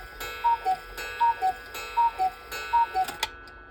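A Cawthon cuckoo clock ticks in a steady, even tick-tock, with paired clicks about twice a second, close and clear in a quiet room and no voices.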